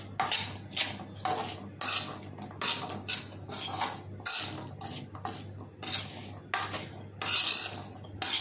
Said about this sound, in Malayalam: നന്നായിട്ടൊന്ന് മിക്സ് ചെയ്യുക.